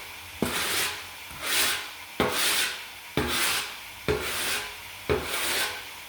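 A large sanding board is rubbed back and forth over the steel quarter panel of a Fiat 500, giving five even rasping strokes, each opening with a sharp scrape and then a softer return pass, close and steady.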